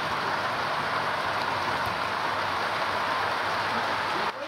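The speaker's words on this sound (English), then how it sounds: "And then it rained." Steady, dense rain falls on open land around a farm dam, a continuous even hiss with no voices, easing slightly right at the end.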